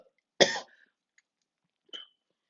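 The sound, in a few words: coughing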